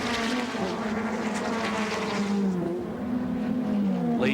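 A Ford Sierra touring car racing at Bathurst in the 1989 Tooheys 1000, engine droning and shifting pitch as another car follows close behind, a steady mid-distance roar.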